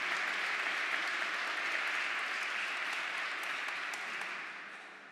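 Audience at an Italian talk on a culture of peace breaking into sustained applause, a dense clatter of many hands, steady and loud before fading toward the end.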